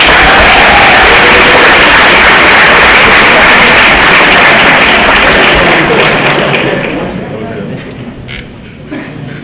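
A banquet audience at a junior varsity football awards night gives a loud, dense round of applause for the players. The applause is steady for several seconds, then thins out and fades toward the end.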